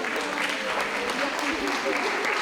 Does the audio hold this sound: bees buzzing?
no